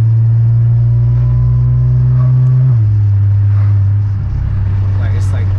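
A tuned Audi S4 with a flashed DSG transmission pulls hard under a loud, steady engine drone, and one quick gear change drops the pitch about halfway through before the engine climbs again.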